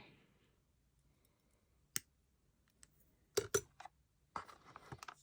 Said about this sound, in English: Then we're going to cut the wire.